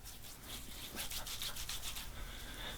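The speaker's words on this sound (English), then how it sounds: "Massage that in thoroughly to all the areas you plan on shaving." Fingertips rub pre-shave product into a beard in a close, steady soft scrubbing hiss lasting the whole moment, with no talking.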